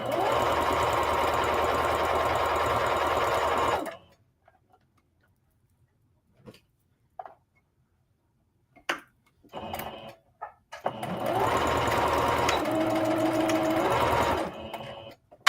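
A sewing machine on a skirt-to-palazzo-pants project hums loudly through a forward run, pauses for a near-silent gap broken by a few clicks and short bursts, then resumes a long steady stitch.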